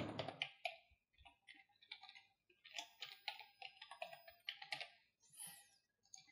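Someone types a login ID on a computer keyboard, a quiet, close run of quick, irregular key clicks with short pauses between bursts.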